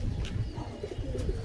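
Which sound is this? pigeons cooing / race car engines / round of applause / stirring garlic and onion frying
pigeons cooing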